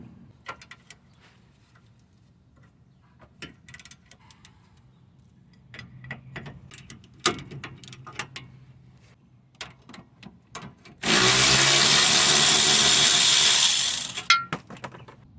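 Ratchet, socket and wrench turning an 18 mm nut on the lower control arm and sway bar link of a 2004–2006 Toyota Sienna, heard as close, irregular metallic ticks and clinks, with a loud, steady hissing burst of about three seconds near the end.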